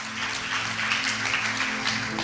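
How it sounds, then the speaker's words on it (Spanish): A church congregation applauds during a service, a soft, continuous wash of clapping heard at a distance with a low steady hum beneath it. "Dele el aplauso fuerte al Rey."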